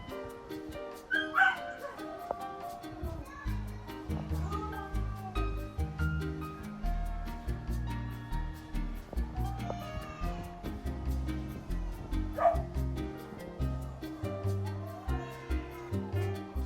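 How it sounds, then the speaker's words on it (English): Dog gives a couple of short, sharp barks, one near the start and one later, over a steady bed of loud music-like tones. "you hear my dog Mia"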